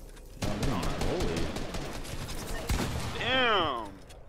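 Rapid gunfire in a multiplayer shooter video game, bursts of shots cutting in after a brief quiet start, with players talking over the action and a rising swoop near the end.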